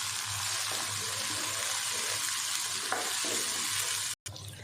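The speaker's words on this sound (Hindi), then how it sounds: "अब हम साथ ही इसमें डाल देते हैं ये बारीक कटे हुए 2 टमाटर हैं।" Two finely chopped large tomatoes hit a pan of onions for a dhaba-style chana dal fry, giving a steady, close sizzle with faint stirring that cuts out abruptly near the end.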